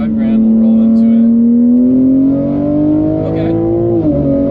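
A built all-wheel-drive BMW G80 M3 accelerates with a loud, steady engine drone rising smoothly in pitch for about four seconds before a brief dip, close and continuous with no talking.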